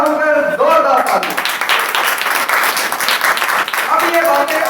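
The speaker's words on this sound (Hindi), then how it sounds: "अच्छा मैसेज के लिए मैं चाहता हूं कि जोरदार ताली" A congregation breaks into loud applause during a church talk on the four gospels, bursting in after a speaking voice and tapering off as talk resumes.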